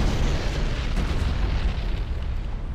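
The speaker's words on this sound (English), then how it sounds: "That mega cannon is very strong" An Ork mega cannon fires in a space fleet battle in Battlefleet Gothic Armada, a heavy, sustained low rumble of booming blasts that stays loud and dense throughout.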